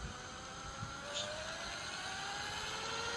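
A flywheel disc on a rod spins up toward a few thousand RPM, making a steady whirring whine that slowly climbs in pitch over a constant motor-like hum.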